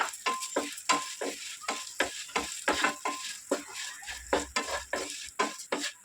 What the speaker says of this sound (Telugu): ఇదే నెయ్యిలో మనం అటుకులు ఫ్రై చేసుకున్నాము